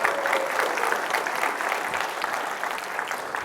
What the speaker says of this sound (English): let's round of applause for the engineers for that one